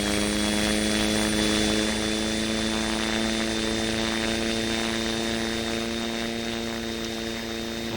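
Engines of an XF14D VTOL aircraft in a flight video game run at full power for takeoff, a steady loud droning roar with strong tonal hum and a high whine, continuous throughout with no speech.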